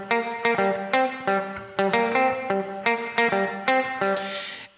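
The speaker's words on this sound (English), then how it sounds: "this is what the reverb sounds like for just the guitar." Electric guitar run through Ableton's reverb plugin set with pre-delay and wide stereo width, plucking a rhythmic sequence of bright notes that ring into a lush tail, ending with a brief noisy wash; no talking.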